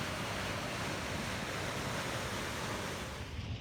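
Rancheria Falls along the Alaska Highway makes a dense, continuous roar of falling water, steady and loud throughout with no voices.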